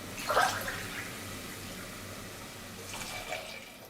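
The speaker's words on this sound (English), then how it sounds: "let's add in the water" Four cups of water poured into a pressure cooker pan of sautéed mushrooms and peas for mushroom pulao, a steady splashing rush that surges near the start and again toward the end, with no talk.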